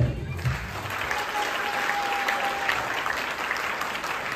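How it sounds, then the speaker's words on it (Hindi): An audience bursts into loud, sustained applause, dense clapping from many hands with a few voices mixed in. "तालियां कम है।"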